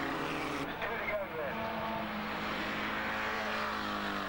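Formula Vee race cars in a 1991 race sweep past as a steady, droning engine roar that builds slightly, with a voice audible over the noise.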